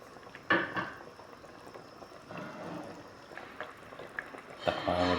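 Fish simmering in coconut milk with moringa pods and okra bubbles softly in a pot, with a louder splash and clatter near the start and more near the end as ingredients are pushed under.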